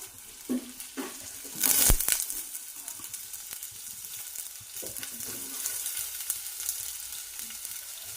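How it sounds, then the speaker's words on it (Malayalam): Bitter gourd and sliced onions sautéing in a pan after mustard seeds have popped, giving a close, steady sizzle and a burst of louder crackling around the second mark, with no talking. "നമ്മൾ ഇനി പാവയ്ക്കയും സവോളയും എല്ലാം കൂടി ഇട്ട് വരട്ടാൻ പോവാണ്."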